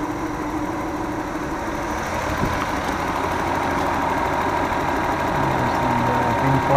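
A 2-litre single-cam DE engine in a Nissan A31 Cefiro idles steadily up close with the engine bay open, a smooth, even hum and faint mechanical ticking holding constant throughout.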